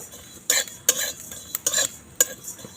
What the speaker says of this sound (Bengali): শুকনো কড়াই দিয়ে একটু নেড়ে নেব